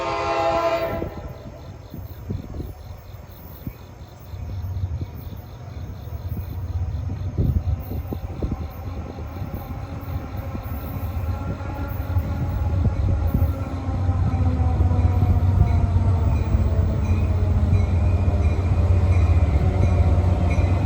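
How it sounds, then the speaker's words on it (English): NJ Transit train 1125, Hoboken to Suffern, pulls into Ramsey station on a hot day, opening with a horn blast, then a steady rising rumble and squealing wheels as it rolls nearer and louder. "approaching at 8:07 is train 1125, Hoboken Suffern"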